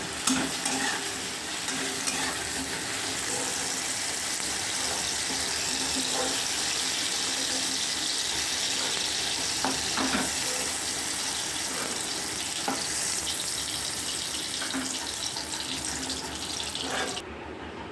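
Eggs frying lightly in a pan for egg do pyaza, a loud, continuous close sizzle with occasional faint stirring clicks.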